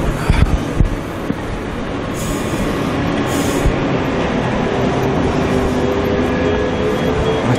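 Sheffield Supertram tram rolling along a city street, a continuous close rumble of wheels and rail noise building and holding steady, with a few brief knocks at the start and faint squeals.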